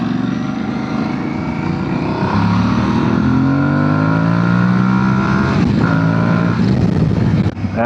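An Aprilia Tuareg 660 motorcycle engine revs up through rising gears, a loud close drone that climbs in pitch with each pull before easing off at the end.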